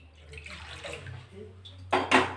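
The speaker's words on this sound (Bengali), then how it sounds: "500 গ্রাম দুধ নিয়েছি, আমি একটু জল দিয়ে দেবো।" Water is poured into a pan of milk, a short splashing pour rising near the end after quieter kitchen background sounds.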